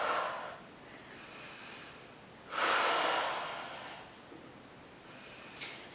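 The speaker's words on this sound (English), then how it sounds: "Big inhales and exhales." Deep breaths during an upper-body workout: a long, soft exhale, then a louder breathy inhale and release, close but quiet, with no talking.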